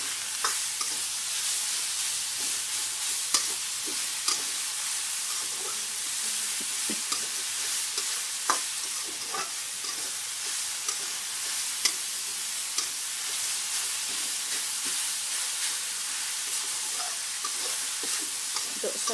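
Genjer (yellow velvetleaf) greens stir-fried in a pan over high heat, a dense steady sizzle punctuated by sharp spatula scrapes and clacks, close up and without any voices.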